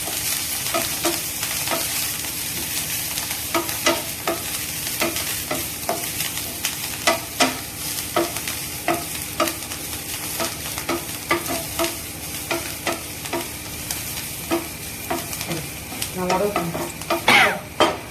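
Drumstick flowers stir-fry in oil in a pan, a continuous sizzle punctuated by a regular series of sharp spatula scrapes and clacks, close and moderately loud with no speech.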